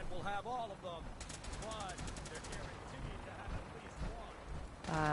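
Gunfire at a Fallout 4 firing range crackles faintly in rapid bursts, including a quick automatic volley, while people talk over it throughout.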